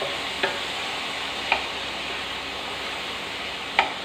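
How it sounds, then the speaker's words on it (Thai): Seasonings stir-fried in a pan while preparing baked shrimp with glass noodles, making a continuous close sizzle broken by three sharp ticks of a spatula against the pan. "แล้วก็จะผัดอีกสักระยะหนึ่งนะคะ"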